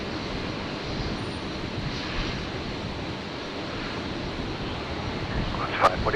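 A Qantas airliner arriving from Melbourne lands on runway 01 right at Brisbane International Airport, heard as a steady, broad jet roar holding level throughout, without speech.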